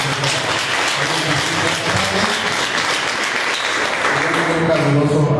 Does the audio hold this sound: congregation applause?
yes